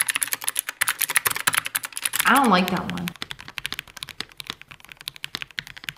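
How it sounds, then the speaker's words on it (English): Keys clatter steadily on a cheap computer keyboard, a dense run of close, crisp clicks with a brief voice breaking in partway through before the rapid typing resumes. "hearing somebody type on a keyboard, it sounds nice"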